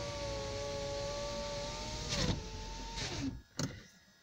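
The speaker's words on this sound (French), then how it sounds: "Fermer les vitres." Car power windows closing, a steady motor whine that stops with a soft thump, followed by a couple of short clunks as the glass seats; close, inside the cabin, no talking.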